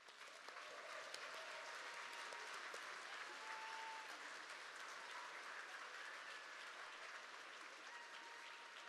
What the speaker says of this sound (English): let's give Gina a round of applause and as she joins us on the stage